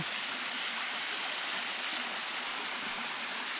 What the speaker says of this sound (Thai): ดูครับ น้ำตกก็มีครับ